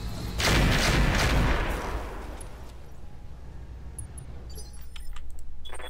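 A mech unloading weapons in the Roguetech battle game: a loud, dense burst of heavy gunfire and blasts, then a long rumbling decay with fainter clatter trailing after.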